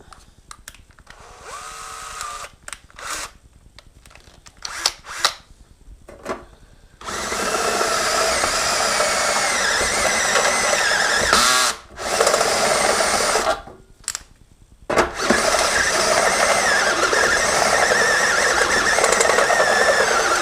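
A power drill enlarges holes in a control panel to 7/8 inch, whining steadily and loudly for long stretches after a few short starts and stops.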